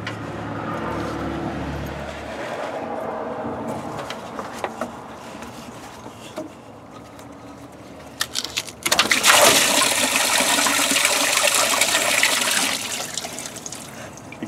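Coolant draining from a car during water pump removal, a steady rushing gush of liquid pouring into a drip pan, starting quietly and swelling loud and splashy in the second half.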